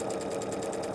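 A sewing machine stitches small fabric pieces together in a steady, rapid mechanical whir and needle chatter that runs close and continuous without a break, no voices over it.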